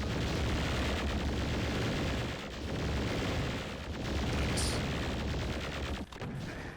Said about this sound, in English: That daggum plasma rifle.